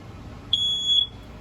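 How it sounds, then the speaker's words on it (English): A single sharp, high-pitched electronic smoke alarm beep inside a 2021 Avenger 26BK travel trailer lasts about half a second, clear and alone over a quiet room background. "right here we've got your smoke alarm"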